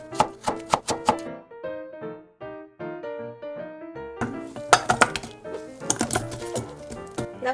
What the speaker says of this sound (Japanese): 皮 を剥いたら3センチ幅ほどの棒状に切ります